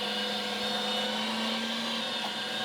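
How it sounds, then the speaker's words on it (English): A meat grinder runs continuously on a fine grind setting, working meat and organs for homemade breakfast sausage, giving a steady, loud motor whine with a constant hum and no talking. "When you're working with a meat grinder"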